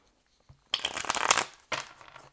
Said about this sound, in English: One more shuffle and then we'll cut the deck